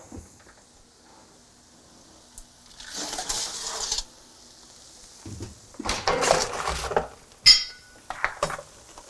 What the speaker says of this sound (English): we're gonna take our root veggies out of the oven and give them a nice stir